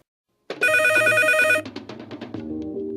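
An old-style telephone bell rings loudly and close for about a second, then breaks into a few stuttering rings before cutting off to a low background hum.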